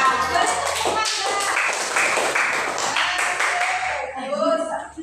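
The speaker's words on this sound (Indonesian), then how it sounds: "Beri tepuk mangga." A classroom of students performs the 'tepuk mangga' rhythmic clap pattern, a series of sharp, fairly loud claps in a steady beat with voices chanting and talking alongside.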